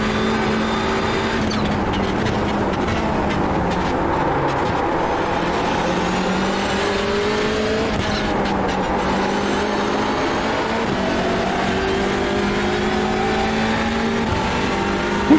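The engine of a Hyundai Elantra TCR race car in the iRacing sim at Imola sounds as one continuous loud, close drone. The pitch rises and falls through gear changes while the throttle is held hard coming out of a chicane.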